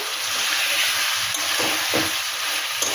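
Chicken marinated in onion, ginger, garlic, turmeric and coriander paste, salted and sautéed in a pan, sizzles steadily while a utensil stirs it in a few scraping strokes, close and alone.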